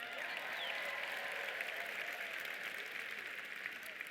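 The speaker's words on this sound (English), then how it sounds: "Let's clap it up for the over 40 crowd." A conference keynote audience applauds: a steady wash of many hands clapping across a large room, sustained and fairly distant, with no single voice standing out.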